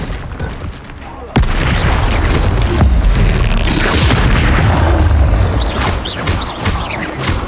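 Heavy explosive blasts from the Confringo fire spell in the Hogwarts Legacy video game, a sharp onset followed by sustained rumbling booms and crashing debris, loud and close, with faint voices underneath.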